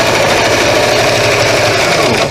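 A sewing machine runs steadily at a quicker speed setting while easing fabric so it bunches up, stitching about 1/4 to 3/8 inch from the edge toward a shoulder notch. The motor whirs loud and constant throughout, with no voices.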